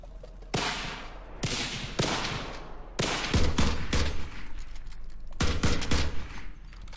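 Repeated gunfire in the battle royale video game Cuisine Royale, with loud sharp bursts of several rapid shots each, spread across the stretch at close range with no talking.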